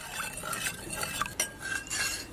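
A spoon stirs dark soy sauce, oyster sauce, sugar, salt and hot water together in a bowl, with steady scraping and light clinks against the sides, close and alone.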